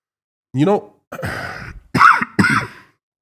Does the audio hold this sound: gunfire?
no